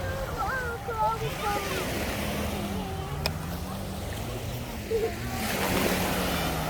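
Ocean waves washing onto a beach where children dig in the sand, a steady surf wash running throughout with a swell near the end, under children singing and adults talking.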